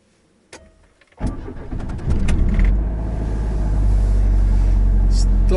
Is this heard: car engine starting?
yes